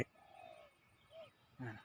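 A dove coos nearby in a forest in a few soft, hollow notes with short pauses between them.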